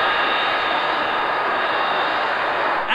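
A B-52 bomber flies past at an airshow, a loud, steady jet roar that holds evenly throughout with a brief shift at the very end.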